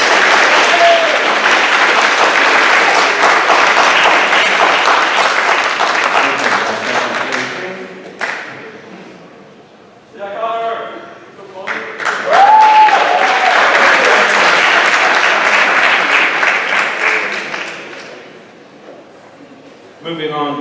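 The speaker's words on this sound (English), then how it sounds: "Give this group a round of applause" An audience at a high school academic awards ceremony gives a group a round of applause: dense clapping fades out, a voice speaks briefly over the lull, then a second burst of clapping swells before dying away.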